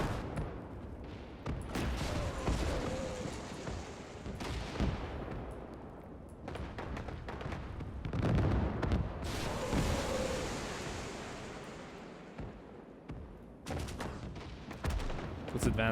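Heavy tank main guns and artillery boom repeatedly in the Gates of Hell war game, with loud, rolling blasts and long rumbling decays that recur every few seconds, blending into a continuous thunder of battlefield fire.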